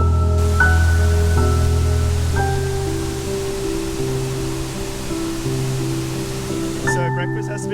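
A waterfall roars in a steady, dense rush of white water close by, unbroken for the whole stretch, with faint tonal hums layered underneath.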